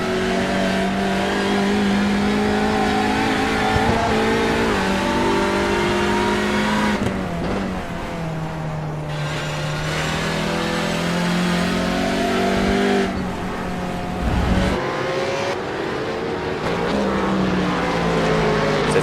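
Supercars roar past one after another at Winton circuit, with engines droning loudly and steadily, pitch rising and falling as the cars accelerate and shift.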